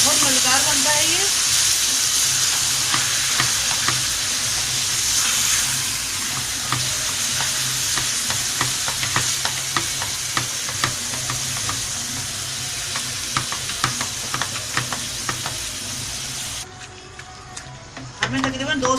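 Minced meat for kachri keema fries in a pan with a loud, continuous sizzle and hiss, stirred now and then, while someone talks over the cooking.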